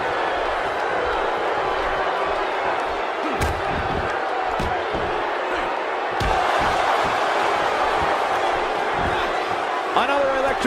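Arena crowd roaring at Smackdown in WWE 2K17, a loud continuous wash of cheering with sharp slam impacts, under a commentator talking.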